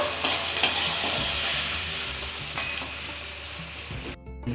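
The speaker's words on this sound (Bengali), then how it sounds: "একটু এটাকে লাল করে একটু নাড়াচাড়া করবো।" Mutton browning with chopped onion in a pan, a steady close sizzle with two sharp clanks at the start and scraping strokes of stirring, easing off near the end, no speech.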